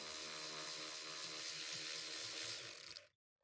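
A small electric impact wrench backs a mounting screw out of the lower passenger-side dashboard trim panel of a Ford Explorer, giving a steady, close buzzing whir for about three seconds before stopping abruptly.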